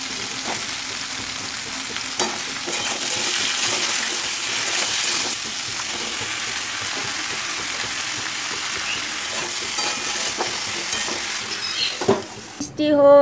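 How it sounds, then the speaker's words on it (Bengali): Bitter gourds frying with salt and turmeric, giving a steady loud sizzle with scraping stirs throughout and a clatter near the end. "করলাগুলো দিয়ে স্বাদ মতো নুন হলুদ দিয়ে করলাগুলো হালকা করে আগে ভেজে নেব"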